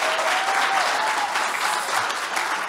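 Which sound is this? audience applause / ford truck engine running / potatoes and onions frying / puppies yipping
audience applause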